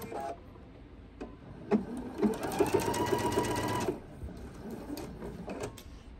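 A sewing machine stitches binding onto a quilt in a fast, even run of needle strokes for about two seconds, with quieter handling sounds of the fabric before and after.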